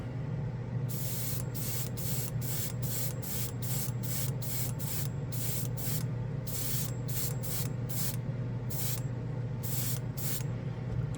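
Green Stuff World metal color paint is airbrushed in light misting coats over dark gray. Many short hissing bursts of spray come in an irregular rhythm over a steady compressor hum, close and fairly quiet.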